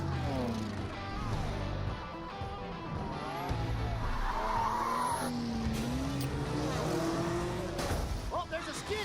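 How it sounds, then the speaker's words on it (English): Tires squeal and skid in a racing video game, a sliding screech amid roaring race-car engines, with a voice talking over the game audio. "Oh, there's a skid. Oh, and there's a wreck. The cars are piling up."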